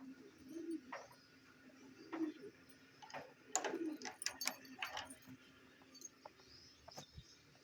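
Pigeons cooing in a breeding room with several low, soft coos spaced out, a burst of sharper calls and clicks in the middle, and faint voices in the background.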